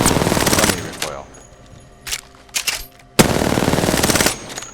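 Rapid automatic gunfire from Apex Legends comes in two long close bursts separated by quieter game sounds and brief shots.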